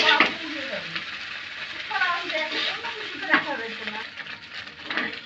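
Bata fish frying in a pan and stirred to make a crisp shredded dish, a steady sizzle with scraping stir strokes, heard under a woman's speech.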